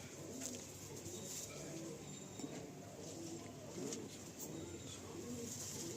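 Steady low cooing rises and falls from a male KTM pigeon in a loft, repeated soft calls over a hissy background with faint voices around.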